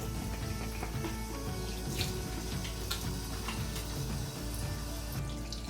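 Steady tap water runs while a turkey tail is rinsed in a sink, a continuous close splashing flow for the whole stretch with no talk.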